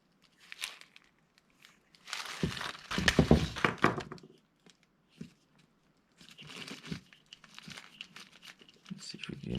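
Small hardware parts shifting and crinkling inside a plastic Ziploc bag during a Yamaha mono shock motorcycle build, heard as bursts of crinkly rattling and thunks close to the microphone, with pauses between handlings.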